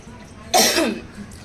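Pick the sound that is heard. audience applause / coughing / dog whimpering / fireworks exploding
coughing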